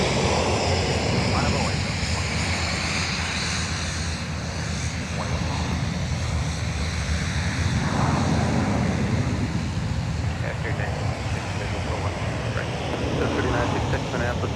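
An Airbus A330-300 airliner in a former Northwest livery taxiing toward runway 12 right at MSP airport, a continuous broad jet engine roar and whine heard at a distance, with wind noise and people talking over it.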